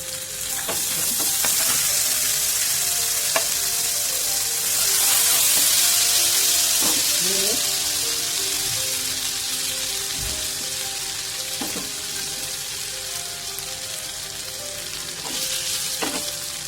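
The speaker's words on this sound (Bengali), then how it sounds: "হালকা ভাজা হয়ে গেছে আমার মধ্যে এবার কুচি করা রসুনটা দিয়ে দিচ্ছি" Chopped garlic and ginger fry in a hot pan in the kitchen while spinach is being cooked, a loud, continuous close sizzle with occasional stirring scrapes and clinks.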